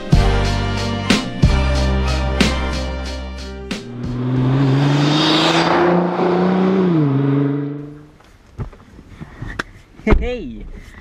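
A 600bhp Nissan GT-R engine revs loudly and steadily for several seconds, its pitch climbing then dropping, with short bursts and voices before and after.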